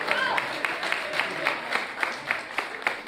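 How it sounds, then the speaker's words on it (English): A modest crowd claps at a live Zimbabwean fashion panel event during Creative Economy Week, with distinct slaps standing out over a soft bed of scattered clapping and faint murmur, fairly quiet and roomy. "Please give a round of applause for myself,"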